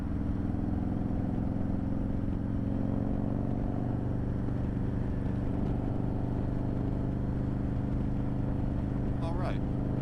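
A 2021 Harley-Davidson Road King Special fitted with Memphis Shades hand guards rides along, its engine rumbling steadily and loudly throughout with constant wind and road noise.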